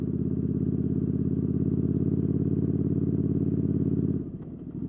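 A motorcycle cruises along an autumn back road, its engine droning steadily and loud up close for about four seconds before the note drops and rumbles unevenly as it slows.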